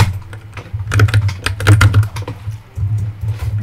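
A computer keyboard clatters with bursts of rapid, close keystrokes, uneven in rhythm with short pauses, over a low steady hum.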